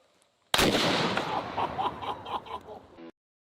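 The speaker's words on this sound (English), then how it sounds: "It will also fire this 1 pound lead ball." A large gun fires a one-pound lead ball, one sudden loud close blast that booms and rolls away over about two and a half seconds before cutting off.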